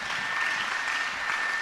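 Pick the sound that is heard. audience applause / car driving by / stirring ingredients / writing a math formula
audience applause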